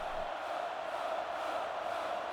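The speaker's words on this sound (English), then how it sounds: "this Kingston crowd chanting for them to go for it" A stadium crowd in an American football video game chants and roars as a continuous, even wash of massed voices at moderate distance, with no pauses.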